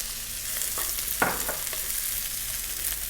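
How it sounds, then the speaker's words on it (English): Chopped garlic and onions fry in a pan with a steady, close sizzle, broken by a few brief stirring scrapes and one louder burst of crackle near the middle. "To that we're going to add a tablespoon of garlic, chopped garlic. 1 cup of onions."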